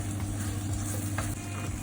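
Prawns sizzling in a hot pan with tomato-based masala for Malwani prawn sukka, a steady frying hiss with a low bubbling hum and a brief stirring scrape, no voices.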